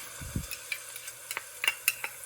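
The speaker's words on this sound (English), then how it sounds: "add in the Thai red curry paste" Thai red curry paste sautéing in oil in a pan, heard as a soft sizzle with light, irregular scraping taps of a spoon stirring, close and fairly quiet with no talking.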